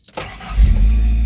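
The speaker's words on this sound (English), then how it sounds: "All the cars have been starting fast today" A car engine cranks briefly and catches, then settles into a loud, steady low rumble close by.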